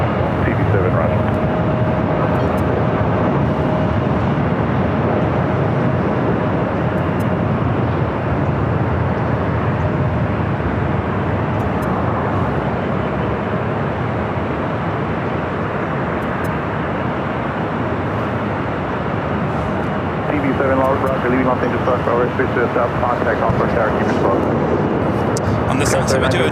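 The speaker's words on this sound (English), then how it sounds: "On the south side, we do a Japan Airlines flight 15 heading to Tokyo Haneda, 777-300ER." A Japan Airlines Boeing 777-300ER jet at LAX, bound for Tokyo Haneda, producing a loud, steady broadband engine roar that holds constant for the whole stretch, with a faint tonal whine and slight rumble swells late on.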